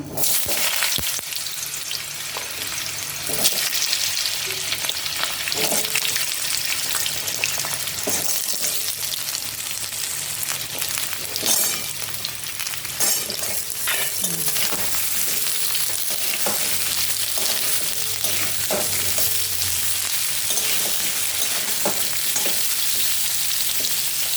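Diced pumpkin fries in hot oil with a steady, loud sizzle that runs throughout, while a spatula stirs and scrapes the pan in repeated strokes.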